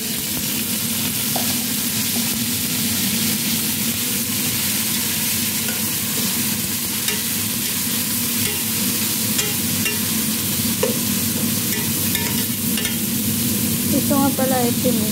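Shrimp sizzle steadily in a hot frying pan as tomatoes go in and are stirred, a continuous loud frying hiss with faint scraping throughout and no talking.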